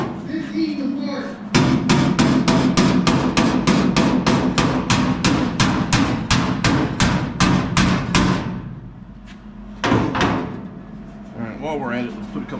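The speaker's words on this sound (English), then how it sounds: "Now let's use our hammers here." Tacks being hammered in as a fast, steady run of about twenty loud, close metallic strikes, then a pause and one more blow. A voice talks underneath.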